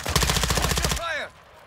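Rapid machine gun burst in a video game firefight, a loud evenly spaced string of about a dozen close shots cutting off abruptly, followed by a brief ricochet-like whine and quiet.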